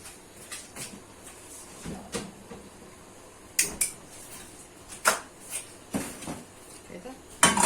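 A spoon stirs molokhia in a cooking pot on a gas stove, giving scattered metallic scrapes and clinks at close range, mostly under a person talking.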